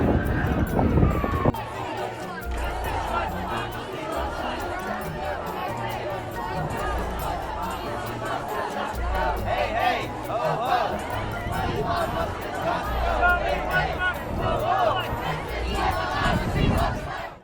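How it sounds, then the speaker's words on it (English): A large crowd at an anti-DOGE street protest roars and chants continuously, with dense overlapping shouts and voices that swell louder in places. "The crowd grew louder as more joined in"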